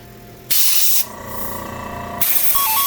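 Black spray paint hisses onto a latex necronomicon wallet in loud, steady bursts: a short blast, a brief lull, then a longer continuous spray and another strong burst, close and alone without talk.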